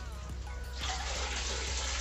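Foam block plunged into water for wall plastering, a close splash and sloshing gush that swells after a calmer start and keeps running to the end.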